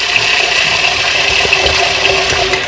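Tap water running steadily into a cooking pot holding rice and red kidney beans for Jamaican rice and peas, a continuous close hiss and splash that keeps an even level for the whole stretch, with no talking.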